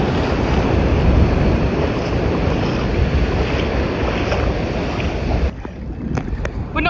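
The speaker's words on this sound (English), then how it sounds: "the waves are so crazy" Loud, steady ocean surf crashing at a beach in Bali, a continuous roar mixed with wind buffeting the microphone, easing slightly near the end.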